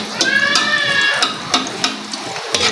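Garlic sautés in a hot pan with a steady sizzle, broken by a few sharp clicks and scrapes of stirring and a brief high tonal squeal near the start.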